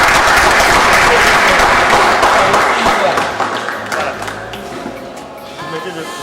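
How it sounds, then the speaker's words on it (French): A room of people applauds a student in a school setting. Loud, dense clapping fills the first three seconds, then fades to a softer patter with voices in the background. "Et applaudir."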